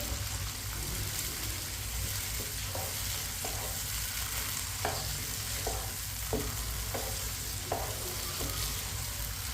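Peas and sliced carrots fry in a pan while a spoon stirs them, giving a steady, dense sizzle with light scraping taps scattered through it, close and continuous without talk.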